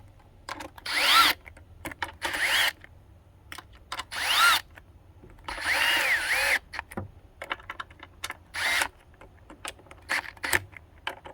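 A power drill runs in short, loud bursts while tightening throttle body screws, roughly eight whirring pulses separated by brief pauses and small clicks of handling.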